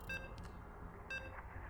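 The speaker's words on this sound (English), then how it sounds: "You can hear the beeps." Two short electronic beeps a second apart, faint under a steady hum, while loading into the Tokamak map in StarCraft II.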